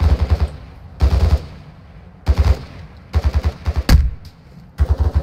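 Video game gunfire, including a sniper shot: loud, close automatic bursts come in separate rattling volleys, with one sharper single crack standing out in the middle, and no voices.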